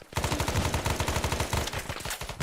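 Sustained automatic gunfire from the Arma 3 video game, a loud rapid burst of evenly spaced shots running unbroken throughout with a brief stutter near the end.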